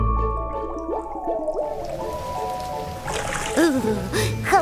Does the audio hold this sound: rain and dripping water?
yes